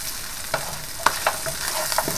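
Garlic sizzles steadily in a hot frying pan while a utensil stirs it, sharp scraping clicks and taps breaking through the constant close frying hiss.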